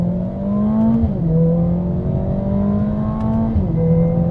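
A Mercedes-AMG CLA 45S engine accelerating in comfort mode from low revs, a loud in-cabin drone climbing in pitch, dropping briefly at two gear shifts, then rising again.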